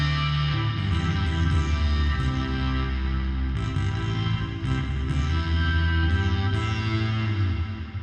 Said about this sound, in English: And this chord bass effect. Yeah, sounds cool. And then we add the reverb on top of that